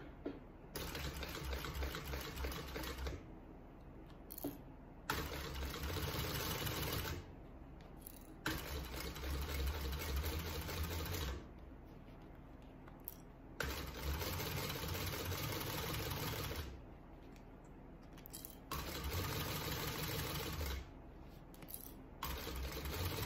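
A sewing machine top stitching a bag runs in several loud, steady whirring bursts of a few seconds each, separated by short quiet pauses, close up.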